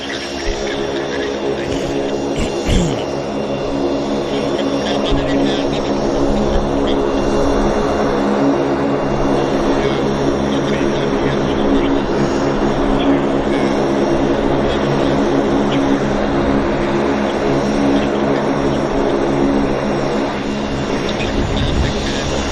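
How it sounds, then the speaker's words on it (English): A Saab 340 turboprop of a coastal carrier taxiing toward the south terminal at Vancouver Airport, a loud, steady propeller and engine drone sustained throughout with a slight swell near the start. "here comes the Saab 340. It's a coastal. Taxing in here to the south terminal"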